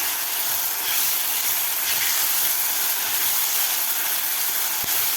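Ground masala paste sizzles steadily in a hot pan while being sautéed for an aloo gobi matar curry, giving a continuous close hiss with no voices.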